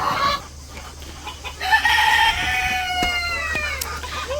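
Chickens clucking and crowing while being fed in a rural yard, a few close crowing calls and clucks over a low background hum, with no talk.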